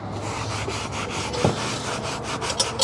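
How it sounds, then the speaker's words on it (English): A green Scotch-Brite pad with Dawn dish soap scrubs rust off a Lodge 12-inch cast iron camp Dutch oven, producing a steady close rasping rub in continuous back-and-forth strokes. "I'm just using some of the green Scotch-Brite pads with some Dawn dish soap, and the Scotch-Brite will help to scrape, rub, and buff out any of the remaining rust"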